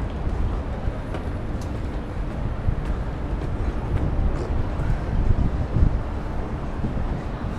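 Strong wind roaring and buffeting the microphone outdoors at height near an elevator, a continuous low rumble with gusty swells, loud and close, no clear speech.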